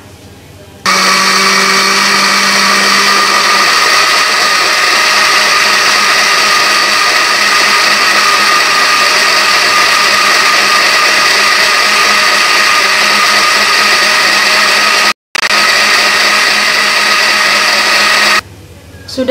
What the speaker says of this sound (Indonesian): Ya, cukup, kita blender ya.